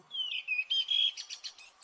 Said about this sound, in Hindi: रानू चिड़िया, तुम रो मत